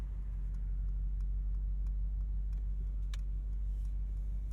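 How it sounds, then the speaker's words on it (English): A 2023 Mercedes-AMG SL 63 turn signal ticks at an even rhythm, faint sharp taps over a steady low cabin hum, with no voices. "Let's listen to that turn signal sound."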